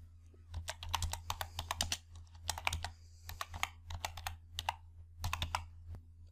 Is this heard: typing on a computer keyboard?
yes